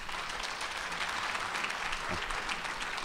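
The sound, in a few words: audience applause welcoming a speaker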